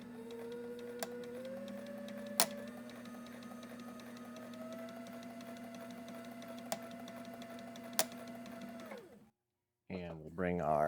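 A sewing machine runs in one steady whirring burst for about nine seconds, stitching joined fabric strips along a 45-degree line for piping, with a few sharp clicks before it stops and a voice begins speaking.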